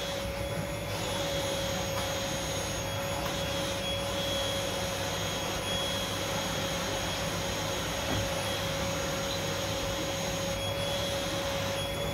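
A household vacuum cleaner runs continuously while floors are swept, a steady loud motor drone with a high whine that holds unbroken from start to finish, no talking.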